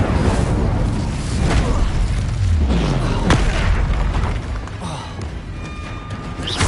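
A spell explosion in the video game Hogwarts Legacy, a dense, loud rumbling boom with burst-like crackle that fills the scene and tails off, over continuous background noise.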